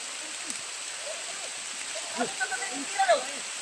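Rain falling outdoors as a steady, even hiss throughout, with faint voices talking briefly underneath near the end.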